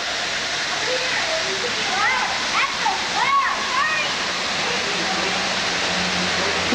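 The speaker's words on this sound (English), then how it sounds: "So much water, it's running right out on the road." A waterfall pours steadily onto Going-to-the-Sun Road in Glacier National Park, a continuous broadband rush of falling water, close and loud, with voices talking over it partway through.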